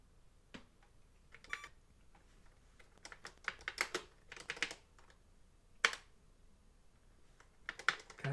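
Keys clatter on the Famicom BASIC keyboard unit in irregular bursts of quick, crisp taps with short pauses between them, fairly quiet and close.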